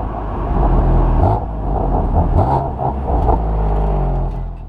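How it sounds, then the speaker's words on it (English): A 2015 BMW M3 sedan driving, its engine rumbling loudly from inside the car, with the pitch rising and falling as it downshifts with quick throttle blips. "Downshifts are also accompanied by a pronounced throttle blip."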